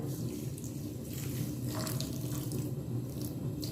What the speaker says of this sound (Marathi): साखर भिजेल एवढं पाणी टाकायचं